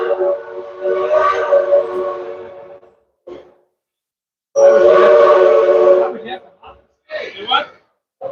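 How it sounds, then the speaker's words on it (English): A steam train whistle at Dollywood in Pigeon Forge sounds in two long, loud blasts separated by silence, followed by shorter bursts, with faint voices between. "I hear the train coming."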